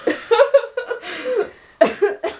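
A woman with a cough lasting four weeks coughs in short throaty bursts, several rough hacks with brief pauses between, close to the microphone and loud.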